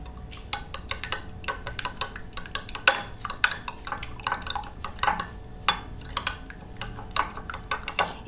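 Egg omelette batter with chili and salt being whisked in a bowl, rapid irregular clinks and taps of a utensil against the dish, close and fairly quiet, continuing steadily.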